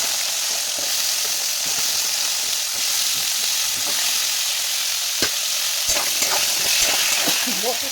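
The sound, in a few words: carrots and potatoes frying in oil in a wok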